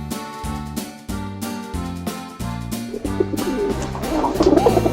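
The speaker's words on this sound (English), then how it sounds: "The pigeon says coo, coo, coo, coo, coo, coo, coo, coo." A pigeon coos in a steady run of about eight soft, even calls, fairly close and clear, with a light tinkling rising near the end.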